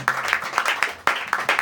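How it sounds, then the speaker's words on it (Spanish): Brief burst of congregational applause for God at a church service, a short run of close, loud claps with uneven rhythm. "Un aplauso a Dios."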